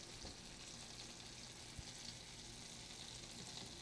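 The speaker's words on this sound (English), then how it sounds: "I love the sound of food as it's cooking." Schnitzel fries in a pan with a steady, dense sizzle and faint crackles, heard close but quiet, with no talk over it.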